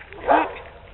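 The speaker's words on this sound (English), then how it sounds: "y'all seen what a goofball my dog can be" A playful pet dog gives a single short bark or yip, close and moderately loud, rising and fading within about a second.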